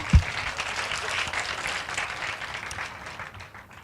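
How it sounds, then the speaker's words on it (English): Church congregation breaking into applause after a healing testimony, a sustained mass of clapping that holds steady before gradually thinning out toward the end. "Let's clap for that one."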